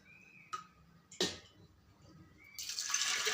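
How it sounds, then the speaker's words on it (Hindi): Water pours into a pressure cooker holding arhar dal, a soft splash after a couple of light clicks, then a steady rising gush near the end, fairly quiet and close. "हमें पानी इतना ही डालना है कि दाल हमारी अच्छी तरह से गल जाए"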